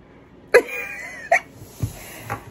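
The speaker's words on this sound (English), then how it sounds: "Oh, my goodness, he's still burping" A person burps after drinking Sprite: two loud, voiced belches close to the microphone, then two softer, shorter ones.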